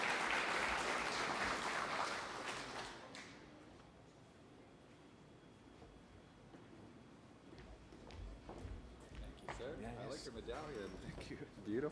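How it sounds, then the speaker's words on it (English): Audience applause at an Indigenous clean energy forum, a burst of clapping at the start that fades after about three seconds, followed by quieter room sounds and a voice speaking near the end. "Big round of applause for Andre"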